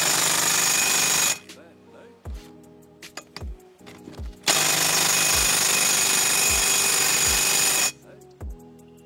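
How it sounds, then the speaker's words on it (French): An impact driver fitted with a socket adapter hammers at engine bolts in two long, loud rattling bursts, with short, sharp blips of the trigger between them. "J'ai pas de boulonneuse, j'ai juste ma visseuse à choc avec laquelle j'ai fait les travaux."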